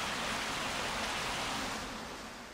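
Rushing water in the video game Ico, a continuous hiss and roar like a stream or waterfall, steady and loud, easing slightly toward the end, with no voices.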